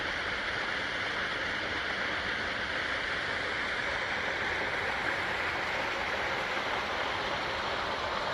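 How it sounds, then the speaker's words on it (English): Etiwanda Falls in Southern California roars steadily and evenly, a dense, unbroken rush of falling water with no voices. "And there's another waterfall right there."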